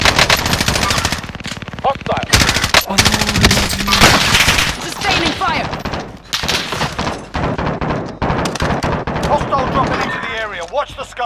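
Cluster airstrike in Call of Duty Modern Warfare, a heavy barrage of rapid explosive blasts and machine-gun-like bursts, loud and continuous, with voices talking in the mix.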